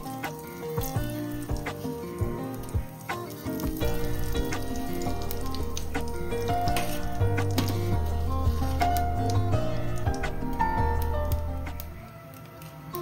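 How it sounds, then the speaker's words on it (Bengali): Black cumin seeds drop into hot oil in a pan and sizzle steadily, a continuous crackling fry that runs close and fairly loud for several seconds before easing off near the end. "তেলটা গরম হয়ে গেছে, দিয়ে দিলাম কালো জিরে"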